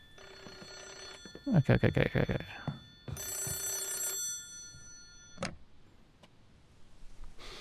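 Telephone rings out in a horror adventure game set in 1980s Japan, two bursts of electronic ringing separated by other game sounds, with a brief spoken word nearby.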